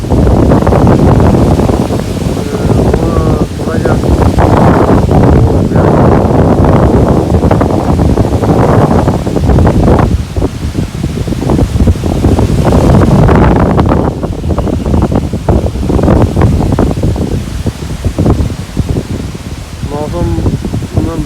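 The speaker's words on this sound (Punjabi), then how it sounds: "ਹਵਾ ਬਹੁਤ ਤੇਜ਼ ਚੱਲ ਰਹੀ ਹੈ ਰਾਤ ਵੀ ਚੱਲੀ ਹੈ ਵੀ ਚੱਲ ਰਹੀ ਹੈ" Strong wind roars over open farm fields during the straw harvest, a loud, continuous buffeting rush that batters the microphone in gusts for the whole stretch, with a voice faintly talking underneath.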